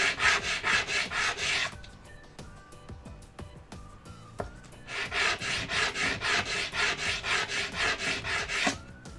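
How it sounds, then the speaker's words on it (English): Rasping back-and-forth sanding of a small DIY camera lens part for an AKASO Brave 7 action camera, in two bursts of steady, rhythmic strokes with a quiet pause between, close and fairly loud. "a little sanding."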